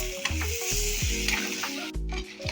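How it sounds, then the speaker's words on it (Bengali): Cumin and coriander paste masala fries in a pan, a close, dense sizzle broken by rhythmic scraping and stirring strokes, with a brief dip in the middle. "এবার আমি মশলাটা একটু ভালো করে কষিয়ে নেব।"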